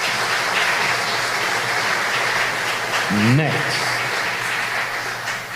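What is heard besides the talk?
round of applause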